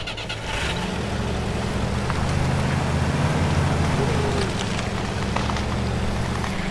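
A truck engine in the off-road driving game MudRunner Spintires cranks and settles into a steady, deep idle rumble after a brief start, loud and continuous with light rattling over it.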